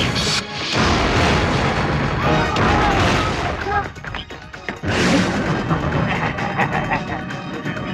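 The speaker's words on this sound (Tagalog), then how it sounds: "Isa pong malakas na pagsabog ang naganap sa piitan ng San Juan" A powerful explosion at the San Juan prison in a Filipino fantasy comedy film: a loud, sustained roar of blasts and crashing debris that dips briefly and surges again, with voices mixed into the din.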